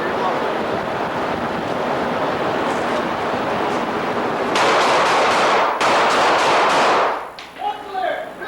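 Rapid gunfire empties a magazine during tactical training in loud bursts over a windy, noisy background. Near the end it stops abruptly and a voice is heard.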